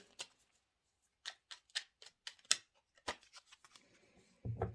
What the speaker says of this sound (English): Oh my gosh, this is so many cards. I'm going to shuffle these again.